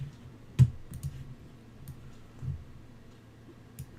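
A computer mouse clicks during Photoshop editing work, giving a few sharp, faint clicks over a quiet background, with one stronger click near the start and lighter ones later.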